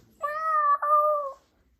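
A human voice imitates a cat's meow, producing two smooth, tonal mewing sounds back to back in a brief, clear burst against silence.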